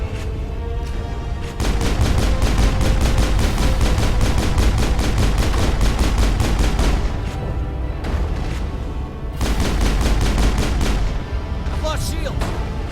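Sustained rapid gunfire aimed at a turret in Mass Effect, a dense, loud rattling stream that pauses briefly before resuming, with heavy low booms mixed in.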